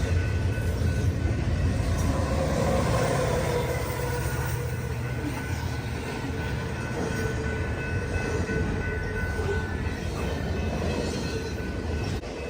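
A freight train rolls steadily past with a Ferromex SD70ACE locomotive running as a mid-train distributed power unit, a loud, constant rumble of engines and wheels filling the whole stretch with no talk.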